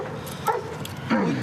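A police dog at an arrest scene lets out two sharp barks about half a second apart, close and loud over background commotion.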